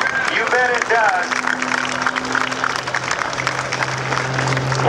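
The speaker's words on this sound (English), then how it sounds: "Does that deserve a round of applause? You bet it does." Spectators at a 2008 naval air station airshow applaud after an aerobatic performance by pilot Patty Wagstaff, a steady crowd clapping beneath a loud commentator's voice, with a brief whistle-like sweep early on and a low engine drone throughout.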